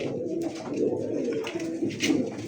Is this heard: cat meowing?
no